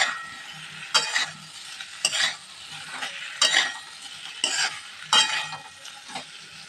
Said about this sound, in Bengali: দিয়ে খুব ভালো করে আলু, পটল, চাল একসাথে মিশিয়ে নেব।